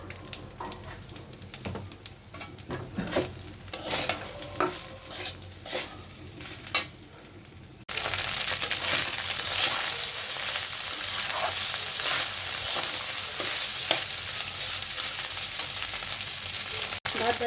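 Leftover cooked rice frying with turmeric and chili powder in a pan, giving a steady bright sizzle that swells louder halfway through, broken by earlier scraping stirs; no talk.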